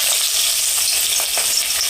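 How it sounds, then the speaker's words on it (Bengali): Sliced onions fry in hot oil for a mango chicken curry, giving a steady, close, loud sizzle with faint crackles and no talking. "পেঁয়াজটা আমার এবার হালকা লাল করে ভাজা হয়ে গেল।"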